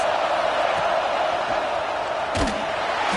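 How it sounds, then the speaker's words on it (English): A college football stadium crowd roars in a dense, steady wash of cheering that holds loud throughout, with a single sharp thump standing out near the end. "the crowd's giving them some juice"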